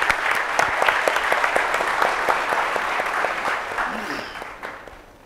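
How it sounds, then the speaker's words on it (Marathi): An audience at a felicitation event bursts into dense, sustained applause that holds steady for several seconds before gradually thinning and fading out. "तिच्यासाठी आमच्याकडून सुद्धा खूप मोठा टाळ्या."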